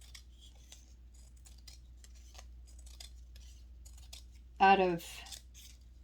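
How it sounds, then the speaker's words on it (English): Scissors snipping through paper while making half-inch double bicone paper beads, one short, crisp cut standing out near the end after quiet handling noises, with a voice speaking briefly. "You want to cut out half-inch bicone beads"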